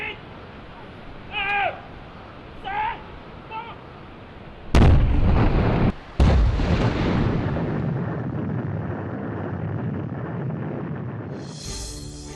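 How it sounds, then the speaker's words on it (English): Controlled explosive blast cracking loose rock on an unstable mountain slope during highway rebuilding, two sharp loud bangs a second or so apart followed by a long rumbling roar of settling debris, after a quiet stretch with bird calls. "In the end, he decided to use just enough explosives to loosen the rock."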